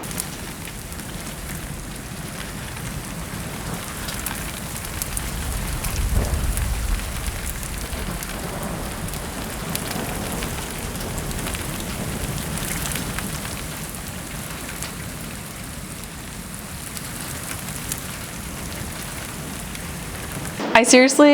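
Steady afternoon thunderstorm rain falls on a rural homestead garden, a dense, continuous hiss that swells slightly for a few seconds before a brief handling noise at the end.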